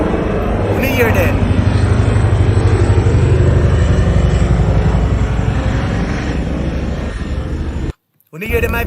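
Helicopter flying over Kingston, Jamaica, heard as a loud steady engine and rotor drone that holds throughout, with people talking over it before a brief cut near the end.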